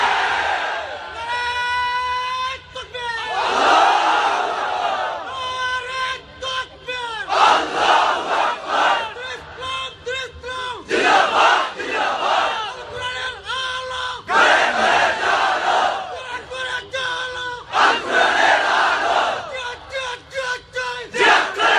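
A large crowd at a religious gathering chanting the slogan Allahu Akbar, loud repeated rhythmic call-and-response bursts of many voices in unison, separated by short pauses.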